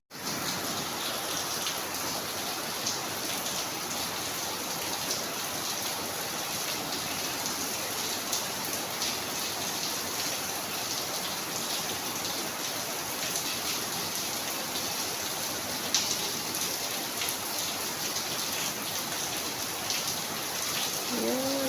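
Steady, heavy rain pours down continuously at a townhouse in Valenzuela City, a dense hiss of drops hitting surfaces close by, with a faint voice near the end.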